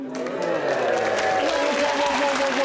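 Studio audience applause on a TV panel comedy show, a steady wash of clapping from a crowd, loud and sustained throughout with faint voices mixed in.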